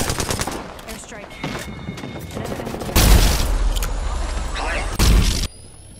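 Loud, close automatic weapon fire from Apex Legends on PS4 rattles in repeated bursts with heavy booms, while game voice lines and a player's voice talk over the shooting.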